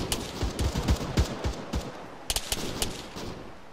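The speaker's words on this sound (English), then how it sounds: "I'm ready to fire on these enemies." Bursts of gunfire in the military game Arma 3, sharp repeated shots in irregular clusters, some close and loud, others a little farther off, with no talking.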